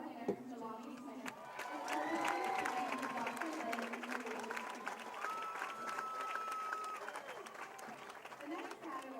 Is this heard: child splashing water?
no